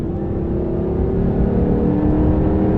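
A 5.7 HEMI engine in a 2016 Ram 1500 police truck gives a steady, loud, heavy rumble while pulling hard at highway speed, with continuous low drone and no talk over it.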